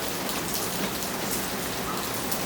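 Steady rain pattering on a surface, dense and continuous with no voices heard.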